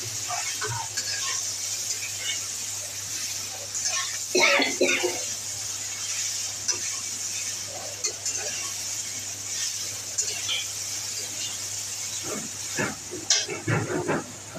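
Vegetables frying in a pan for a mixed vegetable curry, giving a continuous close hiss with scattered crackles and scraping stirs, while a person talks intermittently over it.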